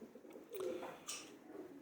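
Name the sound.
pigeons cooing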